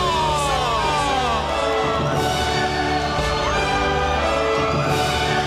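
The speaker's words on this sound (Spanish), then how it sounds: "Fuerte el aplauso para presentar a la señorita Flor Viña y al señor Peter Alfonso." A large studio audience on a Peruvian TV competition show cheers and whoops continuously over music, loud and sustained, with shouts rising above the din.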